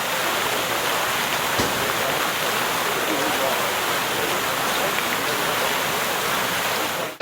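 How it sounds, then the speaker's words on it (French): A hot thermal-water cascade at a spa pool in Nha Trang, Vietnam, producing a steady, loud, unbroken rushing hiss of falling water throughout. "Le mieux, c'est la cascade, elle est aussi à 37 degrés, elle est ultra chaude"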